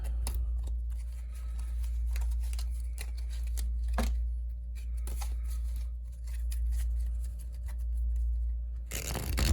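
Cards are shuffled in a series of quick riffles and snaps close up, over a steady low hum, with a louder rustle at the end.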